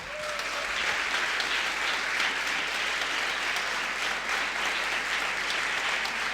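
A church congregation claps steadily and continuously, a dense, even wash of applause filling the whole stretch with no voices standing out.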